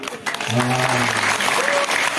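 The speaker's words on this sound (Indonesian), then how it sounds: "Tepuk tangan." Audience applause breaks out at a Balinese gathering in Karangasem, a short burst of clapping blended with a lively crowd and a voice calling out over it.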